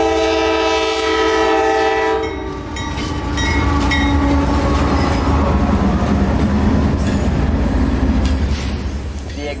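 A train passes a railroad crossing with gates lowered, its horn blaring loud and close in sustained tones for about two seconds, then a heavy rolling rumble and wheel clatter of passing cars continuing steadily.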